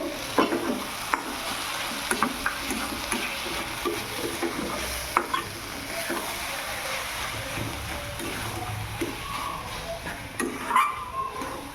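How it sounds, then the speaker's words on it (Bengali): Leafy greens with rice flour stirred in a hot pan on a gas stove, a continuous soft sizzle with scraping strokes and occasional taps of the spatula against the pan, close by and with no talking. "চালের গুঁড়োটা দিয়ে একটু নেড়ে নেব"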